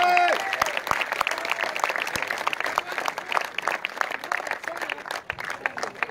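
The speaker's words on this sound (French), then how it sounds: "Un tonnerre d'applaudissements pour Tom Vial." Applause from a crowd at a French MX2 motocross championship podium ceremony in Vesoul, a sustained patter of many hands with sharp individual claps, moderately distant, after a brief announcer's voice at the start.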